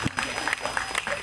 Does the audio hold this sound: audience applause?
yes